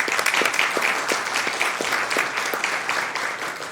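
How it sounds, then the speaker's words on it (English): Applause fills a city council meeting chamber, a steady round of many hands clapping with distinct individual claps audible in the mix, holding level throughout. "let's give them a big round of applause"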